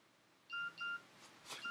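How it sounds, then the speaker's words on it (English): A phone gives several short, thin electronic beeps in quick succession, faint and clean against near silence. "phone beeping"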